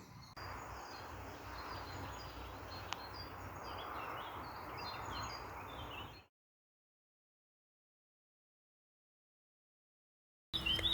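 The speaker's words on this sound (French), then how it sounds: "comme vous pouvez l'entendre, les oiseaux sont bien réveillés" Dawn chorus of birds around six in the morning near the Via Rhôna cycle route in France, a steady layer of chirps and song lasting about six seconds before cutting to silence, then returning briefly at the very end.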